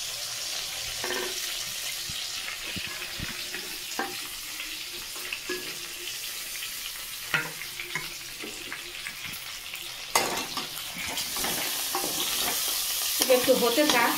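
Boiled food sizzles over a low flame in a pan while being stirred, with occasional scrapes and clinks in the close, steady cooking noise and no talking.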